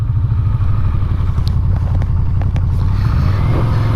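A Yamaha VMAX V4 cruiser motorcycle is ridden along a road, its engine giving a loud, continuous low rumble close by, with wind rush over it and no speech.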